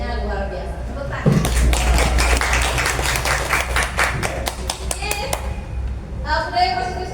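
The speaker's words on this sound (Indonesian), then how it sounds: "Audiensnya luar biasa. Tepuk tangan." An audience at a positive-culture school training session breaks into a burst of clapping, dense and fairly close, lasting several seconds before tapering off, with voices and chatter around the edges.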